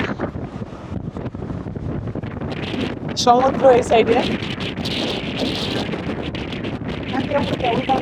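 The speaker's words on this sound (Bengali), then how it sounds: "এখানে প্রচণ্ড পরিমাণে বাতাস" Strong wind buffets the microphone on the Langkawi Sky Bridge, a steady roaring rumble that runs through the whole clip beneath a person talking.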